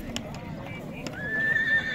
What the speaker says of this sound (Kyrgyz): Өзүбүздүн 40 жылкы.